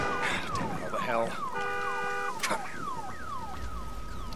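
Car alarm going off in Days Gone, a loud cycling electronic siren that sweeps and warbles through repeating tone patterns, heard alone.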